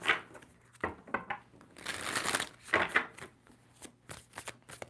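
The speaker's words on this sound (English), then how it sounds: "Two more shuffles for Libra." A deck of tarot cards being shuffled by hand, a series of quiet crisp riffling bursts and flutters at close range, with short pauses between them.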